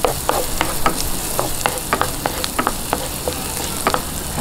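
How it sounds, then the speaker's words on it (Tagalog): Garlic sautéing in a pan for pork asado siopao filling: a steady sizzle with repeated sharp clinks of a utensil scraping and stirring, close and moderately loud, no voices. "Gisahin lang po natin ng bawang"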